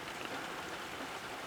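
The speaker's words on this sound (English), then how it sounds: "So we've got a severe thunderstorm." Steady, dense rain pouring down during a severe nighttime thunderstorm, an even broadband hiss of drops on surfaces that holds constant throughout with no voices.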